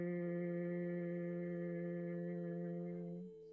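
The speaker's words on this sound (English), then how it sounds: "We're going to do the bee breath today." A steady, sustained nasal hum from bee breath yoga breathing, one long unbroken tone held for over three seconds before it tapers off, quiet and close, with no other sound.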